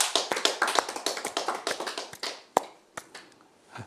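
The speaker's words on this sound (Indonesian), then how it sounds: "Tepuk tangan dong buat Tuhan" A church congregation claps along in quick, irregular bursts of hand claps that thin out toward the end, leaving a few scattered, sharper claps near the close.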